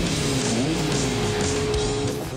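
A race car engine roars loudly and steadily throughout, with no pauses and no voices.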